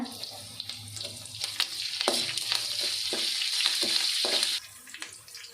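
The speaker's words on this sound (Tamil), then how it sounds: "காஞ்ச மிளகா சேர்த்துக்கலாங்க கருவேப்பிலை சேர்த்துக்கலாங்க" Dried red chilies and curry leaves crackle and sizzle in hot oil for coconut rice, a steady close frying hiss with a few stirring clatters, dropping quieter near the end.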